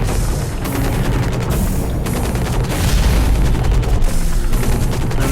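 Mech guns roar in Hawken, a loud, continuous barrage of heavy booming shots with rapid automatic fire that runs unbroken from start to finish.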